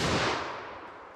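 A single sharp gunshot from a .44 Magnum 4-inch revolver firing Hornady Custom 200 gr ammunition, a loud close crack decaying quickly over about a second.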